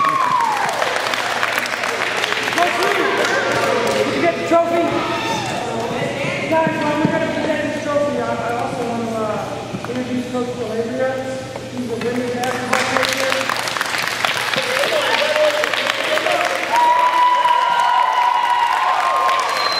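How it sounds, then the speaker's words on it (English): Crowd applause and cheering at a college tennis event, sustained clapping running under a speaker's amplified talk and laughter through most of the stretch. "Big clap."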